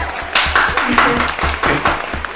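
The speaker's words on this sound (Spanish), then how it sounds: "a quien la recibimos con un fuerte aplauso." A small audience claps to welcome a political candidate onto an interview set, giving loud, close, uneven rhythmic handclaps over a couple of seconds.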